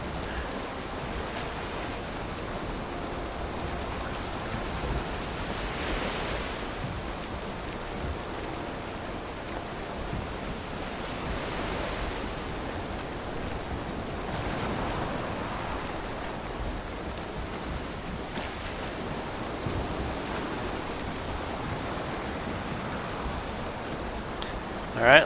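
Choppy seas and stormy weather in the Viking survival game Valheim, a continuous rushing wash of waves and wind with slow swells of surf noise, steady and fairly loud throughout.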